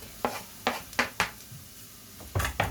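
Garlic going into an oiled pan, heard as a series of sharp clinks and scrapes of a utensil against the pan with a light sizzle between them, up close and without talk.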